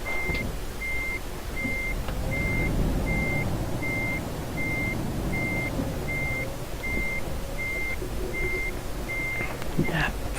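A truck in Euro Truck Simulator 2 reverses with an evenly spaced series of about a dozen reversing beeps over a steady engine drone. Brief mechanical clunks come near the end.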